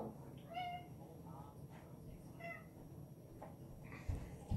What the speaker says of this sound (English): So I have the cat.